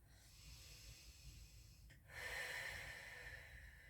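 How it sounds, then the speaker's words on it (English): A person breathes in through the nose and out through the mouth during a pregnancy yoga session. There is a quiet nasal inhale, then a louder, breathy exhale midway that fades gradually. "Breathing in through the nose, or in through the nose and out through the mouth."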